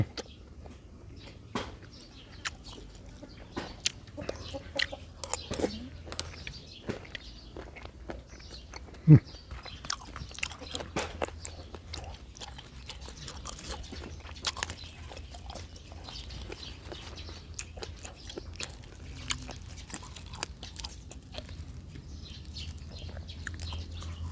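Close, crunchy chewing of a crisp Thai beef offal salad, with irregular bites and crackles repeating over a steady low background hum.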